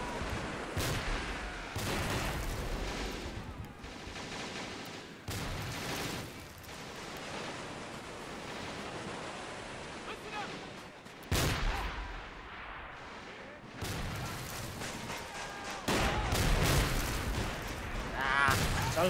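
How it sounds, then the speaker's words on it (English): Gunfire from the D-Day Normandy battle game Normandy 44: dense, loud bursts of shots and explosions in repeated waves across the whole stretch, with brief lulls between volleys and a voice talking over the battle. "I know you've been drawn to the gunfire on the right"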